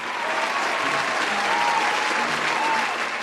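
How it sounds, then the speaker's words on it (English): Steady, even applause from a crowd, continuous dense clapping with a few faint voices underneath, no breaks. "Give him a round of applause."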